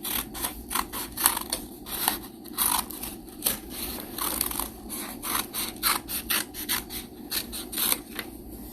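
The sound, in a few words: scissors cutting handles out of paper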